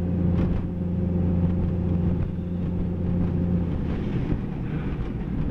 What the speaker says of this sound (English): And then she just fucking chops through the snow like nobody's business.